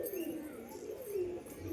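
Pigeons coo in low, rolling phrases close by, with a pair of birds flying and a white hen having just landed, the murmuring steady and moderately loud against a quiet background.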